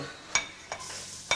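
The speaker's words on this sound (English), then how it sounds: "I'm putting the garlic and the prawn stock in." Garlic and prawn stock hit hot olive oil in a pan, a soft steady sizzle broken by three sharp clinks of a utensil stirring.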